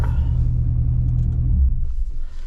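A C6 Corvette engine idles with a deep close rumble, then cuts out about two seconds in, leaving near quiet.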